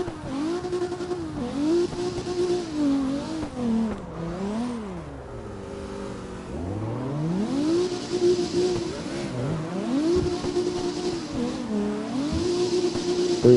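A car engine in the CarX Drift video game revs and wails through gear changes, rising and falling in pitch while tires squeal during drifts, steady and prominent throughout.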